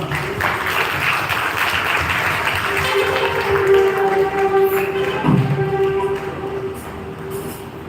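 Congregation clapping in a parish church during a thanksgiving Mass as a priest is honoured with garlands, a steady dense wash of applause lasting throughout, with a sustained tone ringing beneath it.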